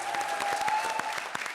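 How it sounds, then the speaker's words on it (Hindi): Audience applause at the grand finale of a comedy show, given for Kapil and Shimona's last performance. It is steady and fairly close, dense clapping with a few louder individual claps standing out, and a faint tone runs through the first second. "कपिल और शिमोना के इस आखिरी परफॉर्मेंस के लिए पहले जोरदार तालियां"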